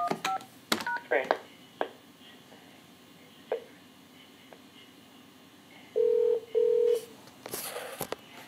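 Telephone keypad tones enter an extension: two loud, even beeps about a second apart, close on the line, following assorted clicks and faint line noise and before a burst of noisy line sound.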